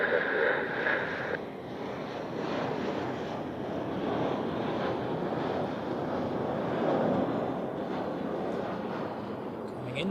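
An Embraer airliner on final approach at Zurich Airport, a broad roar of jet engines that swells and holds steady at a distance, with wind buffeting the microphone.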